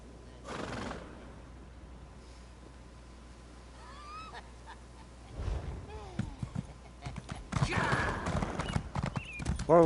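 Horse hooves clip-clop in an Elder Scrolls fantasy game, a run of steady hoofbeats that builds louder toward the end, with scattered game sounds and a whinny-like call.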